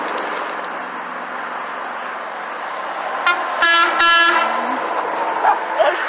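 A train horn sounds in a couple of short, loud blasts midway through, set against a steady outdoor rumble of passing traffic.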